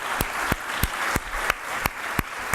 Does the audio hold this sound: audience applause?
yes